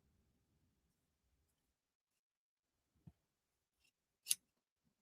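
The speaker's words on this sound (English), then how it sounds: "So we're gonna trim the stabilizer away." Scissors snip away embroidery stabilizer during a quilting sew-along, giving one soft low cut and then a sharp, bright snip a second later in an otherwise quiet room.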